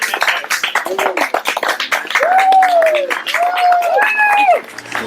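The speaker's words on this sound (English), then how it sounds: "Another applause." Wedding guests applaud in a steady patter of clapping, joined by voices that rise into drawn-out cheers and calls near the end.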